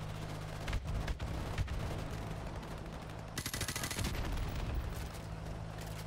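Dense automatic gunfire bursts from a Call of Duty: Modern Warfare firefight, sustained rapid shots with a heavier volley in the middle, loud and continuous over a low steady game hum.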